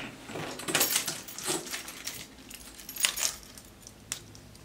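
A handful of keys jangle and clink in irregular bursts, close by and fairly loud, with brief metallic rattles scattered over several seconds.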